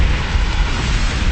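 A continuous roaring explosion from a Dark Knight movie scene, loud and dense, filling the whole moment with a low rumbling blast.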